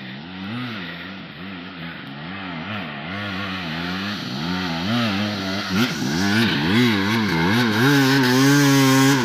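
A motorcycle engine revs repeatedly in rising and falling surges, loud and close, growing more intense over the span.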